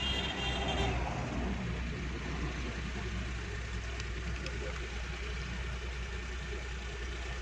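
A Suzuki Bolan engine idles steadily after starting, a continuous low rumble held at an even level, close up, with a slight extra burst of noise near the start.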